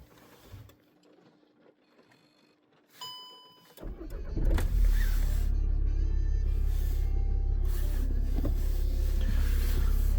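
A Skoda Superb II engine cold-starts on a frosty morning: a few quiet clicks and dashboard chimes, then the starter cranks briefly and the engine catches, settling into a steady, fairly loud idle close by.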